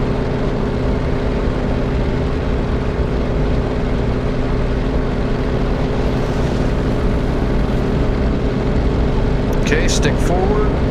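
A propeller aircraft engine in a flight video game holds steady takeoff RPM while heavily loaded with a bomb, a dense continuous drone throughout with faint talk near the end.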